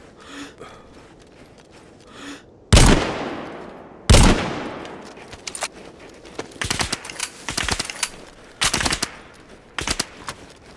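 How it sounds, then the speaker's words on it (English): Gunfire in DayZ on the winter Chernarus map: two loud, sharp shots with echoing tails, then a run of quicker, closer rifle bursts and scattered single shots over the remaining seconds. "Look at the way that my gun is recoiling."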